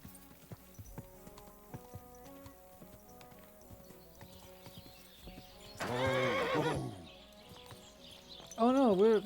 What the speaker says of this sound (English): That looks like a bloody expensive horse.